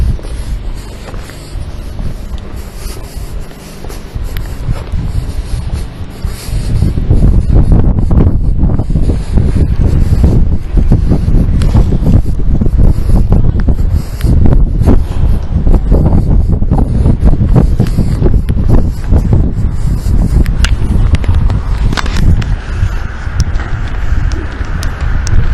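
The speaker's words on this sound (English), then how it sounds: "Wind" Strong wind buffets the microphone outdoors, a loud continuous roar that swells after a quieter opening and stays heavy and rumbling throughout, with no speech.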